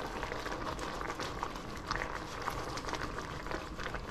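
A pot of Hungarian potato stew simmers on the stove, giving off a quiet, steady bubbling and soft liquid burbling with a few small pops, heard alone without any voices.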